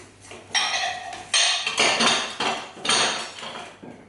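Mashed banana stirred into brownie batter in a bowl, heard as several loud, rhythmic scraping strokes of a utensil against the bowl, each stroke rising sharply and tapering off.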